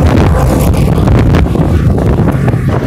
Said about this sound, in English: The wind is crazy out here.